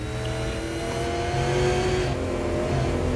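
A race car engine in a racing video game set at Langley roars continuously and loudly at high revs, a steady close drone with slight pitch shifts and no talk.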